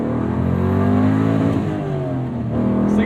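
A 2004 Chevrolet Corvette C5 Z06 pushrod V8 revs near and loud, a steady engine drone with rising and falling harmonics that dips briefly near the end before climbing again, with no talking.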